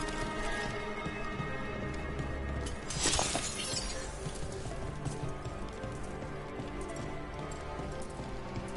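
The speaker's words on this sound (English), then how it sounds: "Raining again." Steady rain in the video game Dragon Age: The Veilguard patters over a dense city ambient bed, with a brief crashing burst near the start and a continuous wash of noise throughout.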